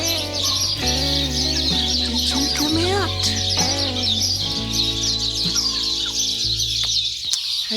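Hens cluck and call continuously in a temporary chicken coop covered with cardboard, close and loud, with steady overlapping clucks and rising squawks while a person briefly speaks over them.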